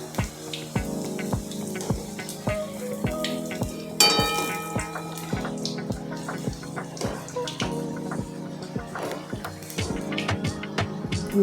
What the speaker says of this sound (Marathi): जरा तांबूस रंग येईपर्यंत यांना तळून घ्यायच्या